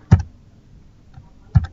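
Two short bursts of keystrokes on a computer keyboard, close and crisp, separated by a near-silent pause.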